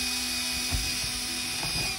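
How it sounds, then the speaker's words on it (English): A power drill bores a hole through the fiberglass gel-coat hull of a Sunfish sailboat to fit an inspection port. It is a faint, steady mechanical whir with a few brief grinding bumps, heard up close with no speech. "So we're just drilling the hole here for the porthole."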